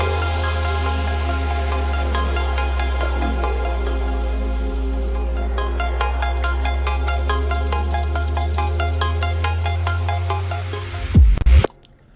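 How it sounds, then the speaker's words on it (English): A brostep second verse built mostly on a rapid, washed-out synth arpeggio with heavy reverb over a deep sustained bass, repeating steadily before a brief louder low-end burst near the end. "It's just this ARP mostly."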